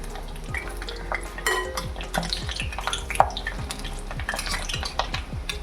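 Boondi for motichoor ladoo frying in ghee over low heat, with steady close sizzling and repeated light scraping and clinking of a metal utensil as the pieces are turned.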